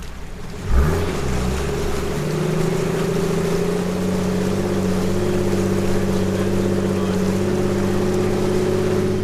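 A 4WD's engine drones steadily as it pushes through water on a bush track, with a brief splash at the start and a low, continuous rumble throughout.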